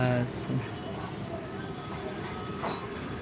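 A metro train rumbles past with a steady, low mechanical roar and faint rail clatter. A voice is briefly audible at the start.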